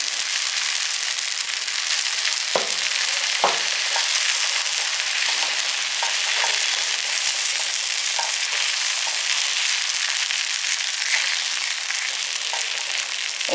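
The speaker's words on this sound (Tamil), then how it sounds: "நான் ஆப்பக்கூழ் சட்டியில் ஊற்றிக்கிறேன் ஒரு ரவுண்டாக ஊற்றிட்டு இந்த எண்ணெயை நல்லா சுற்றி விட்டுருங்க" Adai dosa batter made from chana dal sizzles steadily in an oiled appam pan, a constant close hiss of frying with a few soft clinks and taps from a ladle over it, and no voices.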